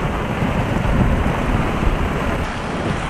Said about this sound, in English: Thunder's picking up.